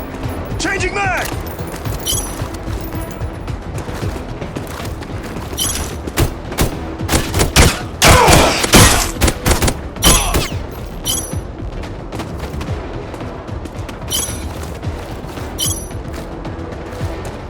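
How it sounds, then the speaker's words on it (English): Steady gunfire throughout a Deadswitch 3 video game battle, with metallic clicks and ratcheting of a magazine change mixed in, a dense loud volley in the middle, and shouted voices over the shooting. "Changing mag!"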